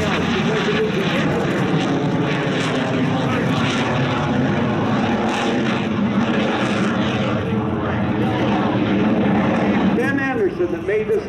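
Yak-110 aerobatic airplane performing a demo at the Bell Fort Worth Alliance Airshow, its engine roaring loudly and steadily throughout with a shifting tone, while a commentator's voice runs beneath it.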